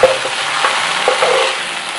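An egg frying in an electric skillet with light soy sauce, a dense, loud sizzle crackling continuously up close with faint scraping of stirring.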